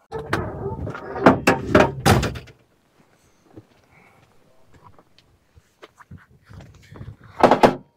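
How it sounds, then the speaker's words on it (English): A door at a remote work site bangs and rattles through several loud knocks and thuds, goes quiet, then thumps again at the end, with faint movement in between and no talk. "Love that door."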